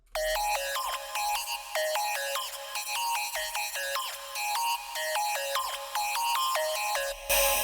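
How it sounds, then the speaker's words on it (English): A screechy, slightly filtered synth lead plays a fast repeating melody in a type beat, loud and continuous with choppy stepped notes and no voices. "It's like a really screechy lead, goes crazy."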